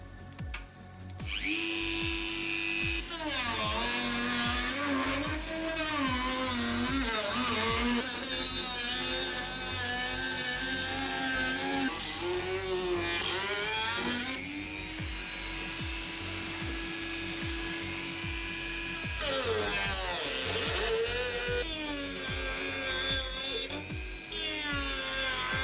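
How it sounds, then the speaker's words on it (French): A plastic part is cut open all the way around its seal with a high-pitched rotary tool, giving a loud continuous whine that rises and falls in pitch as the load changes, running close and steady for the whole stretch with brief dips. "je vais le découper tout autour du joint et voir ce qu'il y a à l'intérieur"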